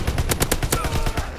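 Anti-aircraft flak guns in Call of Duty: WWII firing a rapid string of close, punchy bursts, roughly ten quick shots in steady succession, loud and alone.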